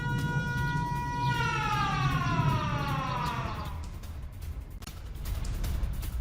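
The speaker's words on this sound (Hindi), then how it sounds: "हमलों के बाद जगह जगह एयर रेड अलर्ट सायरन भी सुनाई दिए।" Air raid alert siren wailing after missile attacks, its rising and falling tone sweeping down then fading into distant background noise, heard from afar and alone.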